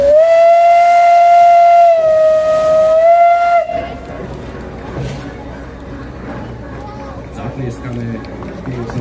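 Steam whistle of a 1936 class 486.0 locomotive, a loud sustained blast lasting several seconds, then giving way to crowd noise and chatter in a depot.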